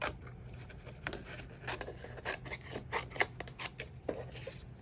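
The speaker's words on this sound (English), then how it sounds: "I'm going to go under the mica and just cut it off along the edge" Scissors snip along the edge of paper backed with a sheet of mica during ephemera crafting, a run of close, rasping cuts at an uneven rhythm with no talking.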